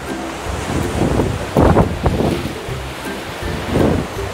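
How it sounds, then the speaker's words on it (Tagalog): Strong surf at a Boracay beach, waves breaking and washing in repeated surges with heavy wind buffeting the microphone, close and loud with no talk. "malakas na ampas ng alon"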